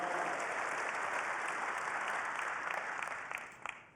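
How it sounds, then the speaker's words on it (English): A keynote audience claps in a dense, even burst of applause that fades out near the end, fairly soft overall. "Big round of applause for Patrick."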